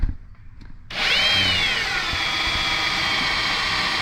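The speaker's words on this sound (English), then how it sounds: "Drilling a hole." A power drill bores a hole for a battery cable in a Mopar A-body, starting abruptly after a quiet moment and then whining steadily and loudly at close range with no talk.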